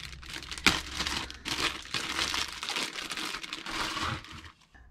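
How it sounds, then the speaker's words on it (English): Plastic packaging crinkles and crackles as a Bosch PLI 18 LI 18V work light is pulled free, with close, irregular bursts of rustling and one sharp crackle near the start. "So I'll just take it out of this plastic packaging."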